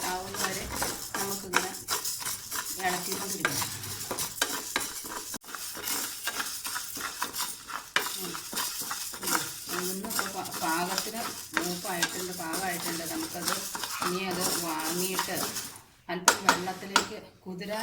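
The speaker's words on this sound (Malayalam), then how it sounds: "ആദ്യം നമുക്ക് ഈ ഉഴുന്ന് അങ്ങനെ ഒന്ന് വറുത്തെടുക്കണം" Urad dal dry-roasts in a pan for pesaha appam, with continuous scraping and stirring of a spatula against the metal and occasional clinks. A person talks over the stirring throughout.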